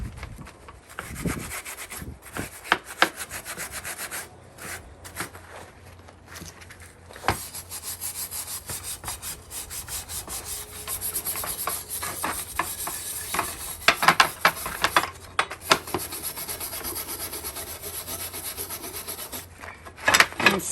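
Cloth wiping vinegar over the rusty iron of an antique wood stove, close repeated rubbing and scraping strokes with gritty friction, a few sharper knocks, steady for most of the stretch and no voices.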